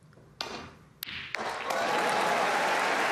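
A snooker final crowd at Belfast's Waterfront Hall bursts into applause for a century break, starting with a few sharp claps and thumps, then swelling within about a second into loud, sustained clapping that fills the hall.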